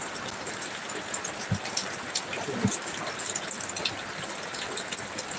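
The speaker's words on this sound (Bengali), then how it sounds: "আমাদের এতে খুব বৃষ্টি হচ্ছে" Heavy rain pours steadily and close, a dense continuous hiss of drops striking surfaces with occasional louder splashes, and no voices over it.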